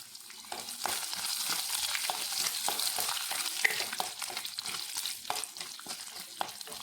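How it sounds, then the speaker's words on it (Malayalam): Garlic sizzles steadily in hot oil in a pan while curry is being cooked, with a dense crackling hiss and occasional sharper pops close by, and no talking throughout. "ഇനി നമ്മൾ കുറച്ച് വെളുത്തുള്ളി പത്ത് വെളുത്തുള്ളി കഴിച്ചിട്ടുണ്ട് വെളുത്തുള്ളി ഇട്ട് കൊടുക്കുക"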